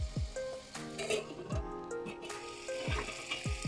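A tomato goes into a pot of simmering sambar, setting off a steady sizzle and bubbling, with a few soft clinks and stirring thumps close by and no talking.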